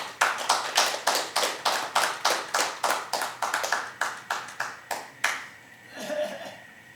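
An audience at a judicial-justice citizens' rally claps after an encouragement speech, a steady run of about twenty loud, evenly spaced rhythmic claps that stops abruptly, followed by faint murmuring.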